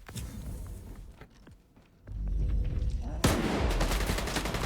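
Heavy automatic gunfire in S.T.A.L.K.E.R. 2 roars in dense, loud bursts, dipping briefly before a sharp blast and renewed sustained shooting; no talk is heard.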